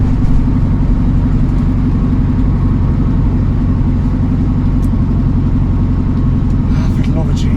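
A 1967 Volkswagen Beetle engine runs steadily at a low, throaty rumble throughout, loud and close, with a faint higher sound near the end.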